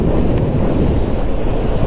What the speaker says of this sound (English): the wind on this helmet is so bad through this visor